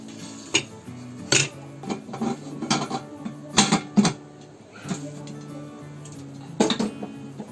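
A cake tin filled with Kala Jamun cake batter is tapped against a kitchen surface, giving a series of sharp metallic knocks and clinks in irregular clusters, close and fairly loud.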